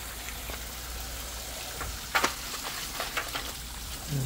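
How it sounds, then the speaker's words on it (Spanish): Water drains from a small concrete washing pool and spills onto dry ground outdoors, making a continuous hissing, sizzling splash with a few louder splatters, close and steady with no talk. "Aquí es donde estoy tirando el agua, aquí en este espacio, para que se riegue aquí también."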